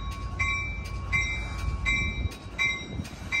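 An Amtrak San Joaquin passenger train rumbles through Richmond station on a windy, cold day, its wheels beating a steady rhythmic clatter over rail joints with a faint ringing squeal above the loud, continuous roar.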